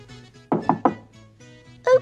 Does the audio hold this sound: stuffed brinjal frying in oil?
no